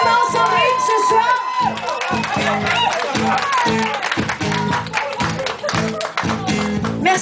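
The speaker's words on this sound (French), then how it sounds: "Je pense qu'on peut l'applaudir fortement, Sandrine, ce soir." Strong audience applause and cheering at an evening show, loud dense clapping with crowd shouts over music throughout.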